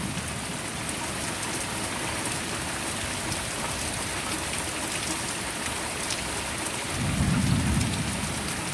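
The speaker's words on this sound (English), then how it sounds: "but if you can hear thunder, you're close enough to get hit by lightning." Steady rain pours onto surfaces outdoors, a constant hiss, while a low rumble of thunder rolls in near the end.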